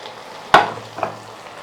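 Boiled cauliflower pieces drop into a hot pan with a single sharp sizzling splash, followed by a softer second sizzle a moment later, then quiet frying.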